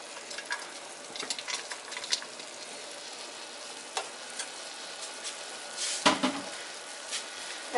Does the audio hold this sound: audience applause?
no